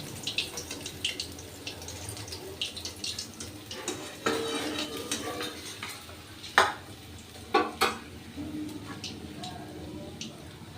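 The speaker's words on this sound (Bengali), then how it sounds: "বাকি মাছগুলো আমি এইভাবে ভেজে নেব।" Ganges fish frying in a pan at a home kitchen stove, soft sizzling with scattered clinks and scraping of a utensil, quiet and close, a few sharper knocks toward the end.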